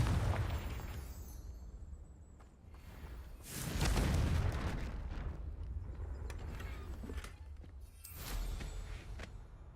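Confringo, an explosive fire spell cast in the video game Hogwarts Legacy, detonates in two loud, booming blasts several seconds apart, each followed by a rumbling tail over a steady game backdrop.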